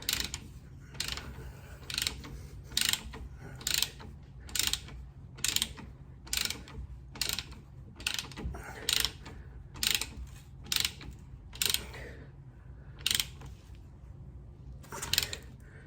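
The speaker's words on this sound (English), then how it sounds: "we've got those torqued in nice and tight" A ratchet wrench clicks in repeated short bursts while bolts on Maserati GranTurismo brakes are tightened, a quick regular rhythm of close mechanical ratcheting with brief pauses between strokes.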